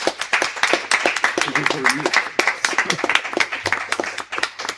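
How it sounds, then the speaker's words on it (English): Workshop audience applauding the speakers at an academics' session, a run of crisp, closely spaced hand claps from a modest crowd, with a voice briefly audible partway through. "Please join me for an applause for all the speakers."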